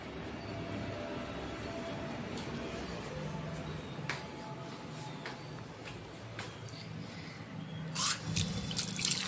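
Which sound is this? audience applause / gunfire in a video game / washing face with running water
washing face with running water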